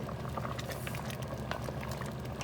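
Pumpkin porridge with adzuki beans simmers on low heat in a pot, giving a steady, continuous bubbling and popping close up, with no talking.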